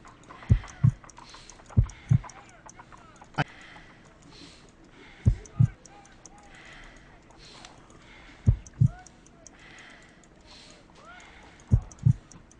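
Heartbeat sounds in a video game, deep paired lub-dub thumps repeating every few seconds over a low hum, with faint ticking and quiet speech in the background.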